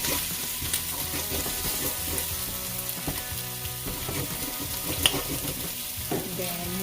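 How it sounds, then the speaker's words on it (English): Korma paste sautéing in a pan for a paneer and pumpkin korma curry, with a steady close sizzle and frequent stirring scrapes and taps, continuous and moderately loud. "you saute your korma paste until you can smell the aroma of the spices"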